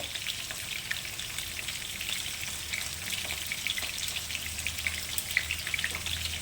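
Ingredients for a masala stuffed ridge gourd curry sizzle and fry in oil in a pan, a steady close crackling hiss with small pops throughout, with no voices.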